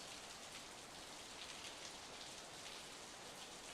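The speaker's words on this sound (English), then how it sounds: "It was raining. The rain was falling on my face in drops so large it hurt." Steady rain falls in the video game Steins;Gate 0, a cold midwinter downpour with large drops, a dense, even hiss of drops hitting surfaces that carries on unbroken with no voices.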